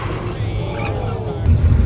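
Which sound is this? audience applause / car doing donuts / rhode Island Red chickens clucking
car doing donuts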